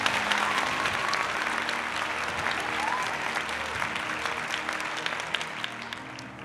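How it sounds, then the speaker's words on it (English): A crowd at a state hotel awards ceremony applauds its winners with sustained, dense clapping that holds steady and close for several seconds before tapering slightly. "I'd ask everyone to put a big virtual round of applause together for all of our winners shown on the screen now"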